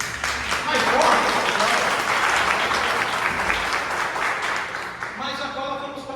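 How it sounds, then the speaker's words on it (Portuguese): A church congregation applauds loudly and steadily in a worship service, dense clapping filling the space throughout, with voices and a brief musical tone emerging near the end. "Se você entendeu, tem uma aplauso do Senhor bem forte, mais forte."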